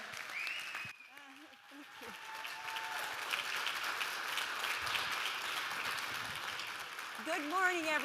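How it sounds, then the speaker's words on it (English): Audience applause builds to welcome the host of a morning show held at a distributor's venue, clapping rising and holding steady while a voice speaks over its start and music-like tones enter near the end. "Please welcome, big applause for Mary Cameli."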